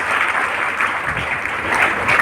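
Audience at a health awareness program clapping together, a dense, steady round of applause lasting a couple of seconds.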